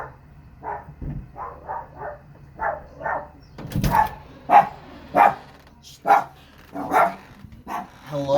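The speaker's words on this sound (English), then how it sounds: "The dog was barking before I knocked." A dog barks repeatedly from inside a house during a visit, short sharp yaps spaced about every half second to a second, moderately close, with faint voices nearby.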